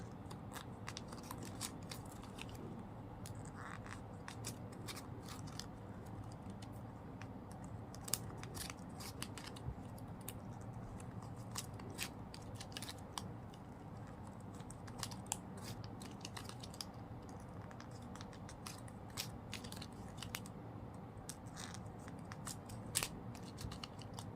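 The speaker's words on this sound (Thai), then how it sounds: "เสร็จแล้วเราก็ตัดปลายริบบิ้นทิ้ง" Scissors snip repeatedly at a ribbon end, quick sharp crisp cuts scattered over a quiet background with light handling noise.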